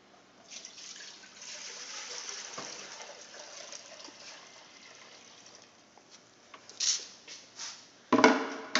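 About 1.25 gallons of tinted water is poured into a clear container, making a steady, close trickle and gush that rises into louder splashes and pouring bursts toward the end.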